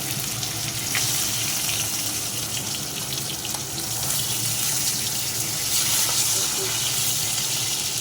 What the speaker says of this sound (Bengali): মাছগুলো আমার ভাজা হয়ে গেছে, তুলে নেবো।